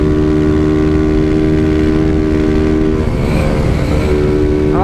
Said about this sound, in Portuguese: Nossa, mano, a moto tá dando umas falhadinhas.